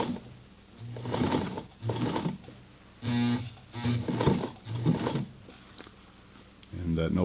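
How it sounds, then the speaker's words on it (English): The motor of a 1968 Singer 237 sewing machine hums and whirs in short, uneven surges as the foot pedal is pressed lightly, with pauses between bursts and a louder burst near the end. "that noise you're hearing is just me kind of slightly pressing on the foot."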